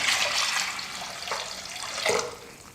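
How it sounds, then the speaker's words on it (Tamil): Water poured from a tap or jug onto lentils in a pressure cooker, a continuous close splashing rush with two brief surges. "பருப்பு வேக வைக்கிறதுக்கு தேவையான அளவுக்கு தண்ணி சேர்த்துக்கலாம்."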